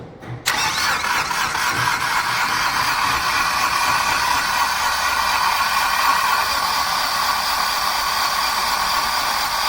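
The diesel engine of a Hyundai Xcent/Grand i10, freshly overhauled, catches with a sudden loud start and then holds a steady, close, even idle for several seconds.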